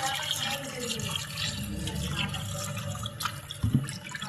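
Tap water runs steadily into a bowl of fish soaking in vinegar and salt for a masala fish curry, a continuous close splashing fill with a brief louder gush near the end.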